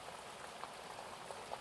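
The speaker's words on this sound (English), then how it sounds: "The sound of the stream bubbling along the bank" A stream bubbles along its bank, a faint, steady fizz of gurgling water with small irregular pops and no voices.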